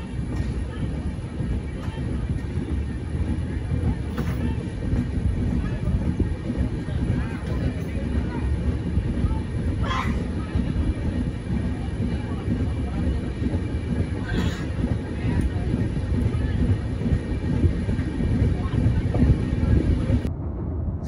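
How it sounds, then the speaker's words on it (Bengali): Saraighat Express, the 12346 Guwahati–Howrah service, running after a two-minute halt: a steady, loud rumble of wheels and carriages throughout, with faint clicks and squeals along the rails. "2 মিনিট দাঁড়িয়ে ট্রেন চলতে থাকে তার পরবর্তী গন্তব্যের উদ্দেশ্যে।"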